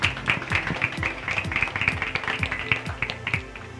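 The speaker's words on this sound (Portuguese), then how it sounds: "palmas pra Tainá" Studio audience clapping for a contestant on a Brazilian TV variety show, steady rhythmic applause with close, crisp hand claps throughout and no speech over it.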